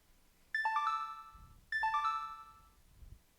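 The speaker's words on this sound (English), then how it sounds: "After a few seconds, her phone receives the mail." In the Steins;Gate video game, a phone receives a mail alert: a bright, clear, descending electronic chime plays twice about a second apart, each ringing out briefly over a quiet background.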